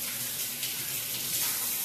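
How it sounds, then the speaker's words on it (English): A kitchen tap runs in a steady close stream while hands are washed with soap, with no talking. "Wash my hands with a little soap."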